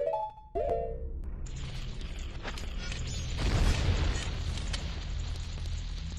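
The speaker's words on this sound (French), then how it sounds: "on va utiliser le masque à explosion" Blast Mask explosion in the Zelda Majora's Mask video game: brief game tones give way to a loud burst and rumbling blast that swells midway, then settles into a lingering hiss.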